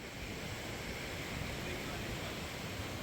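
Water gushes through an old rustic wooden structure, making a constant, even rushing hiss heard from a moderate distance with no break.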